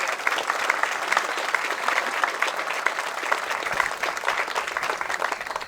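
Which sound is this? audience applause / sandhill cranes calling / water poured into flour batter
audience applause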